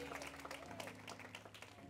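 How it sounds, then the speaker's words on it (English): A church congregation claps together in a dense, steady applause over low organ or keyboard chords, fairly faint and diffuse across the room. "Y'all can clap on that."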